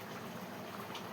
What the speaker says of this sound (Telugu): ఉడుకు మా తల్లి నీవు ఉడుకు